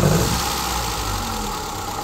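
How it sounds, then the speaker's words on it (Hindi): A motorcycle engine idles roughly and shakes, a steady mid-pitched mechanical hum with a slight uneven throb, close and continuous without talk. "ये देखें जी इंजन किस तरह शेक कर रहा है"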